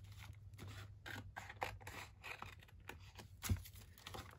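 Scissors snip through junk mail paper in short, close, quiet cuts, with crisp slicing strokes and faint paper rustles in between.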